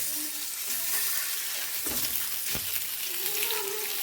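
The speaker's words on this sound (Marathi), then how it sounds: "यामध्ये आपल्याला अंडे सगळे फ्राय करून घ्यायचे आहेत" Eggs frying in oil with turmeric in a pan, a steady close hiss and crackle with a couple of soft knocks from a spoon, and a faint voice briefly audible.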